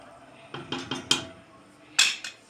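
A lid clinks and rattles onto a pot of cooking dry beans in a home kitchen, several close metallic taps in quick succession and then a final sharper clank.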